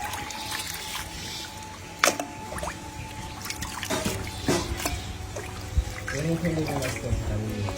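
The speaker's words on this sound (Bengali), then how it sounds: "মাংসগুলো ভালো করে কেটে ধুয়ে নিচ্ছি আমি" Pieces of cut meat are rinsed in water by hand, with soft splashing, trickling and knocking sounds close by, and a voice talks over much of it.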